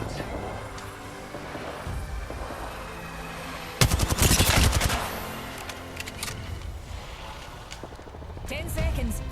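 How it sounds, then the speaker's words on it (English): Gunfire from an Apex Legends match, with a loud burst of rapid automatic shots in the middle and scattered quieter shots around it, heard under a voice talking. "Getting shot at."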